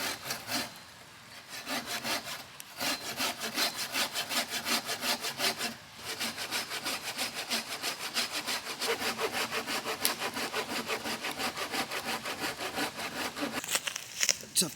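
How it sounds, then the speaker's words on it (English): A small handsaw working through dead wood at a wild camp, heard up close as a long run of quick, regular rasping strokes with brief pauses, moderately loud and without talk. "I've only got a little handsaw, so I can only do a little bit at a time."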